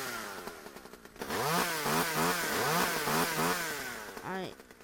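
A chainsaw in a modded survival video game starts with sputtering pulls, then roars and revs up and down in repeated surges, loud and close, with a voice speaking faintly over it.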